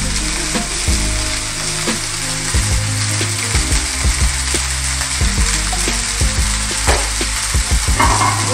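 Egg fried rice with added ghee sizzles loudly and steadily in a pan over high heat, with scraping stirring clatters breaking through the continuous frying hiss.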